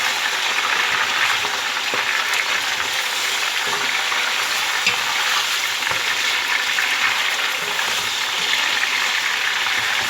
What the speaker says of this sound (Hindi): चिकन डाल के इसको मैं अच्छी तरह से फ्राई करूंगी।